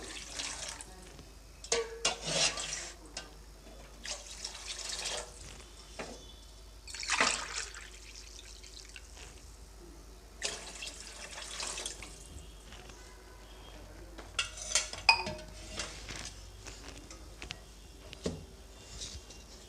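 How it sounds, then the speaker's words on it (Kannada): Water poured from a glass into a pan while cooking hotel-style upma with Bangalore rava and softened tomato, coming in several separate splashing, trickling bursts with quiet pauses between them, close by. "ಅದೇ ಗ್ಲಾಸಲ್ಲಿ ನಾನು ನಾಲ್ಕು ಲೋಟ ನೀರನ್ನು ಹಾಕ್ಕೊಳ್ತೀನಿ"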